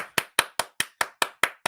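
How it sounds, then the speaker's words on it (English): Steady rhythmic hand claps, about five per second, sharp and close, with no voices. "They'll look up at you and they'll start clapping again."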